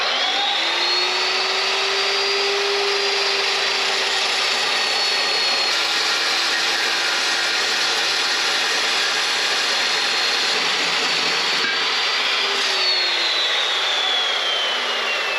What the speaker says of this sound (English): this saw is awesome. I'll let you see it. In action!